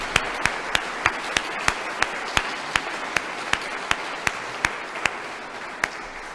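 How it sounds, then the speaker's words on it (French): A church congregation in a French parish applauds together, the claps landing in a steady, evenly spaced rhythm of sharp, moderately loud hits with no talk over them. "je propose simplement qu'on applaudisse ensemble pour tous ceux qui se donnent dans notre paroisse"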